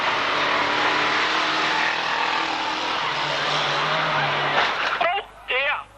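Vans race at a 1991 Braintree Auto Club van meeting, a dense, continuous roar of engines close by, with a commentator's voice breaking in near the end.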